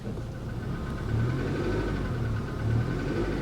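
A Lincoln MKX engine idles in park with a suspected drivetrain fault, a steady mid-pitched rumble with a faint recurring knock, heard close and alone without talk.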